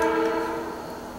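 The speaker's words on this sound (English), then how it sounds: "I just had a whole conversation with the train" A passing train sounds a long, steady horn blast, loud and sustained, slowly fading as it recedes, with no speech over it.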